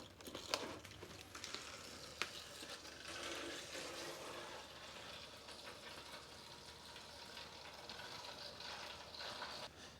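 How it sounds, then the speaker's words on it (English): Engine oil drains from the sump of a 2009 VW Golf 1.4 petrol into a pan on the floor, a continuous watery trickle with splashing and a couple of sharp drips, steady and fairly close throughout. "That's been draining for a little while now, just down to a slow, steady drip."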